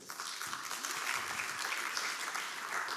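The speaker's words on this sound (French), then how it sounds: "vous pouvez l'applaudir" An audience at a talk on youth entrepreneurship and food challenges applauds a speaker with a dense, steady wash of clapping from many hands, sustained and fairly even, heard from within the room.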